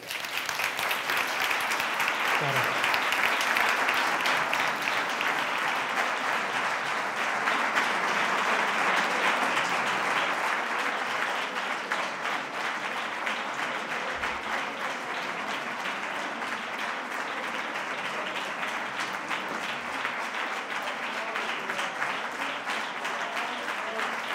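Sustained audience applause fills the whole stretch, a dense steady roar of clapping hands that barely fades.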